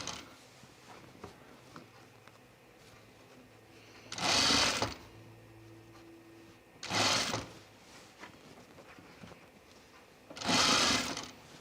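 A sewing machine stitches a gathered French seam in three short bursts, each a second or so of rapid mechanical whirring separated by quiet pauses, fairly close and clear.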